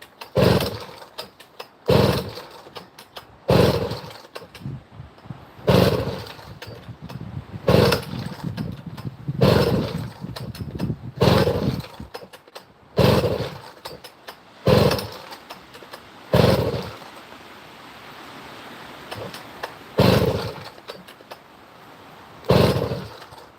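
Husqvarna chainsaw pulled and started repeatedly in bursts, each revving up loudly then dropping away, roughly a dozen short runs with brief pauses between, no speech.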